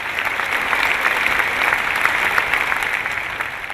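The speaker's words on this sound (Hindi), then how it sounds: "देखिए इनके लिए तालियां क्यों बज रही है" Loud, sustained audience applause at a motivational talk, dense clapping from a large crowd filling the whole stretch without a break.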